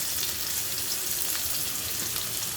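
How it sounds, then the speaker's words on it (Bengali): Shrimp fry with onion and green chilies in a pan for a mustard-paste water lily and shrimp dish, giving a steady, soft sizzling hiss heard close up, continuous and moderately quiet with no voices. "এখন আমি এগুলো খুব ভালো করে একটু ভেজে নিব"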